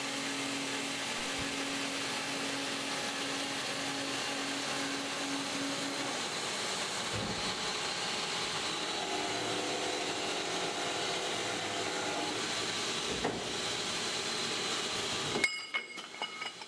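An Amada HP310 band saw runs through a steady cutting pass with a continuous, even mechanical whir, loud and unbroken, shifting tone partway through before a brief clatter at the end.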